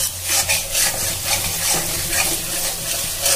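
A spoon stirs and scrapes spice paste frying in a pan for potato and pointed gourd posto, a steady sizzle with rhythmic scraping strokes, close and continuous with no talking.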